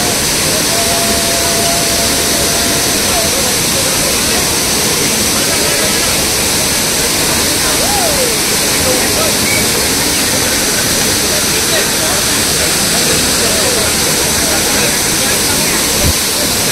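Dudhsagar waterfall roaring as a steady, loud, dense rush of falling water that fills the whole clip without a break, close by, with faint voices barely audible under it.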